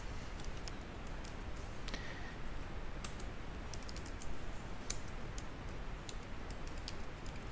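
Quiet, light typing on a computer keyboard while entering slide headings in PowerPoint 2013: scattered soft key clicks, some in quick clusters, over a faint steady background hiss.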